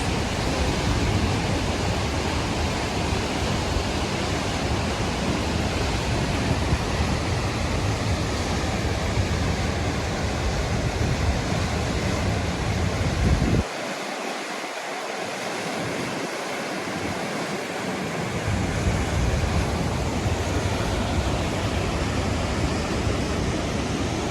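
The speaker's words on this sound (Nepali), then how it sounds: "Waterfall" A waterfall roars in a steady, dense rush of water, loud and continuous, briefly dipping in level midway before returning.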